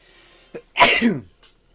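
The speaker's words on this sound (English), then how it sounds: "I gotta sneeze right now." A single loud, close sneeze bursts out after a short quick inhale, with a faint breath trailing afterward in an otherwise quiet room.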